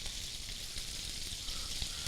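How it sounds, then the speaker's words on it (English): Meat sizzles while frying in a pan, a steady, soft hiss of crackling fat that continues evenly with a few small pops and no voices. "usually when you hear less sizzling, that means your meat's about ready to get turned"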